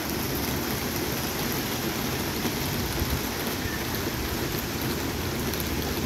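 Heavy rain pours down in a dense, unbroken hiss, loud and steady throughout, with no voices.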